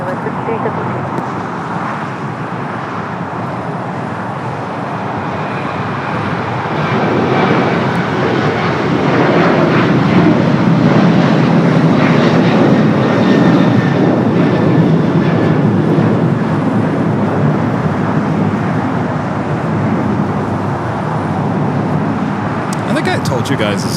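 An airliner takes off from runway 25 right at Los Angeles International Airport, a loud sustained jet engine roar that swells and holds, with a voice talking over it throughout.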